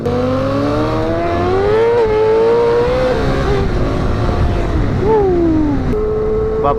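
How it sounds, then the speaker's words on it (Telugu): A Yamaha R6 motorcycle with a modified exhaust revs loud and close, its engine note climbing and dropping through several throttle blips over steady rumble. "R6 ఎగ్జాస్ట్ మార్పిచ్చిండ, నా చెవులు అయితే పగిలిపోతున్నాయి"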